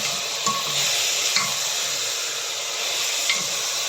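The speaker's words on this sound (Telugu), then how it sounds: "మటన్ వేసి ఒక్కసారి కలుపుకున్నాను." Mutton sizzles loudly in a pan with onion and ginger-garlic paste for a mulakaya mutton curry, a steady close frying hiss broken by a few soft scrapes as the pieces are stirred.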